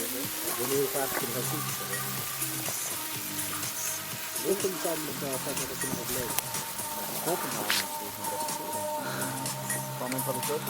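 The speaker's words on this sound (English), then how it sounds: "the nasty boiling mud pot." A boiling mud pot in Death Valley bubbles and sizzles with soft, irregular popping and gurgling, heard continuously at moderate level under people talking nearby.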